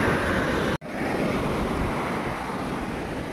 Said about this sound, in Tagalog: malakas ang pasok ng alon ng tubig dagat